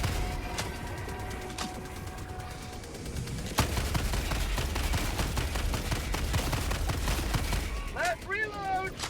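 A sentry gun firing in Helldivers 2 during a fight against the Illuminate: continuous rapid gunfire and distant blasts as a dense, steady roar, with a voice calling out briefly.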